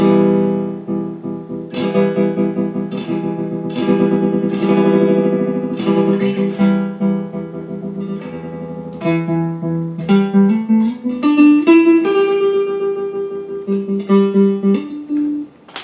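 An electric guitar plays chords and single notes through an Ernie Ball Expression Tremolo pedal, with a wavering, pulsing volume effect, heard alone and fairly loud with a touch of reverb.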